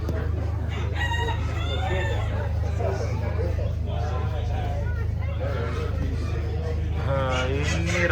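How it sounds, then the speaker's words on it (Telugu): Chickens clucking and a rooster crowing in the poultry section of the Carnwath farmer show, a steady hubbub of fowl with repeated crows rising over a constant low hum and crowd babble. "కోళ్ళు."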